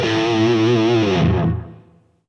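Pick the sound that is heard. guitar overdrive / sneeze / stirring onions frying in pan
guitar overdrive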